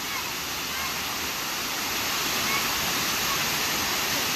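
Waterfall on the Cascade River in Osceola, Wisconsin, about 20 to 25 feet high, a loud, unbroken roaring rush of falling water heard close by and alone.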